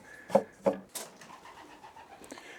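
Young racing pigeons cooing inside a pigeon basket: a few soft, close coos and throaty calls in quick succession, then quieter rustling and faint murmurs, with no speech.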